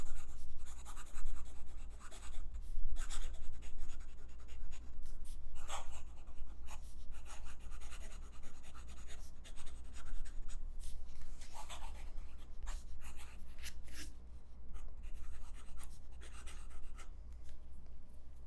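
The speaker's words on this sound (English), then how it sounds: "Okay, fast writing." A Tibaldi N60 fountain pen's nib scratches rapidly across paper in fast writing, a steady close-up rustle of strokes with brief lifts between words, continuous and unaccompanied by speech.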